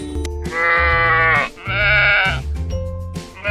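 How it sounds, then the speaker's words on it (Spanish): A sheep bleats loudly and close by in two long wavering cries separated by a short pause, heard alone. "¡Oveja! Eso, la oveja."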